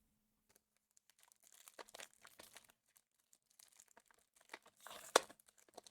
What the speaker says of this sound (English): that's not how you open a pack of Magic cards